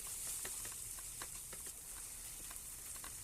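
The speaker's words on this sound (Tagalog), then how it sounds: "Tapos haluin lang na uli natin" Corned beef seasoned with ground pepper and syrup sizzles quietly in a pan while a utensil stirs it, producing regular faint scraping clicks over a steady frying hiss.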